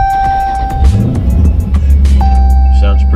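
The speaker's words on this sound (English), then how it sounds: "Alright, so first I'm going to go ahead and start up the car." A Dodge Challenger ScatPack engine cranking and firing up, settling into a deep, steady idle rumble close by, with someone talking over it.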